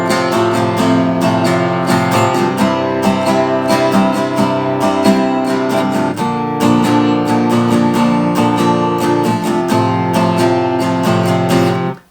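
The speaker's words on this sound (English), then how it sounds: "My just general strum sounds like this." Acoustic guitar strumming chords in an ordinary, steady pattern, dense and continuous with bright string attacks on each stroke, loud and close with no voices for about twelve seconds.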